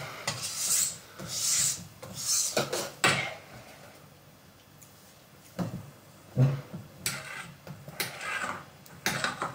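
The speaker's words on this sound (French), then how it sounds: "Allez, encore quelques tours de fouet." Chocolate batter for a mi-cuit au chocolat is whisked in a bowl, giving repeated close scraping and rubbing strokes in uneven bursts with brief pauses between them.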